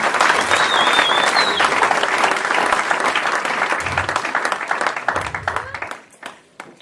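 A church congregation applauds and cheers in praise of the Lord during a French-language service, dense sustained clapping throughout that thins and fades near the end.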